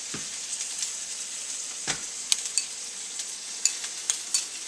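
Ramen stir fry sizzles in a pan after soy sauce goes in, a constant hiss with a couple of low splashy bursts and light metallic scrapes of a utensil against the pan.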